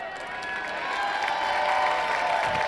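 A minor-league baseball crowd cheers and applauds for a boy who has caught a foul ball, the roar building steadily from moderate to loud and holding as a broad, sustained wash of many voices and clapping.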